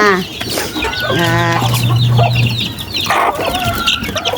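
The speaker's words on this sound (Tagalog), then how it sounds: "pakain ko na yung ating mga sisiw" Chicks and their mother hen cluck and cheep loudly and close as they are fed, overlapping calls and peeps, with a person speaking briefly among them.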